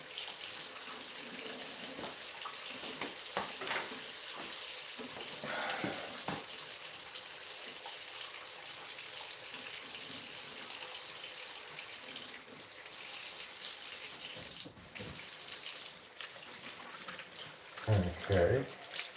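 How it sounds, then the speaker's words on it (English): Tap water runs steadily from a faucet while resin is washed out, a constant close hiss of flow with small splashy shifts and a brief louder gush near the end. "Let's wash out this resin."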